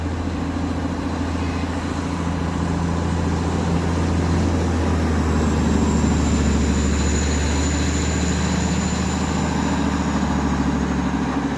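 The Darjeeling toy train arriving at Batasia Loop, a steady deep rumble of engine and wheels that stays constant throughout, with a thin high tone drifting over it midway.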